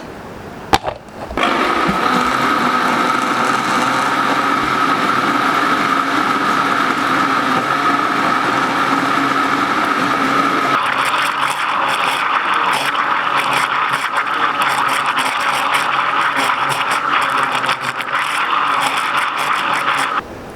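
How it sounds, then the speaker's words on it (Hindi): A kitchen blender whirs through a mix of mango, sugar, milk, yogurt and water for mango lassi. It starts with a click, then runs as a loud, steady motor drone whose tone shifts midway, with no talking. "और अब हम ब्लेंड कर लेंगे।"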